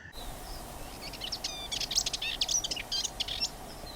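A Sardinian warbler calls in Lesvos with a run of bright, rapid chirps and short trills, fairly close and clear over a low steady background hiss.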